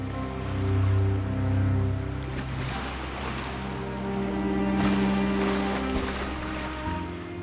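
Small ocean waves wash and break gently along a shore, with soft rolling surges, wind and a low engine drone beneath.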